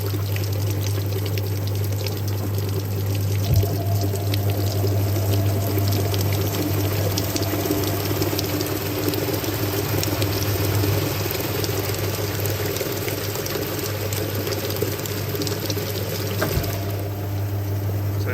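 Water pours and trickles steadily inside a Hoover 1400 washing machine as it flushes out leftover soap during a brief rinse on the permanent press cycle, with a constant low machine hum underneath.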